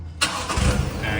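An Isuzu 4JJ3 diesel engine cranks and catches, firing up through a stainless steel DPF-back diff dump exhaust. It is sudden and loud after a brief quiet, then settles into a steady rumble nearby.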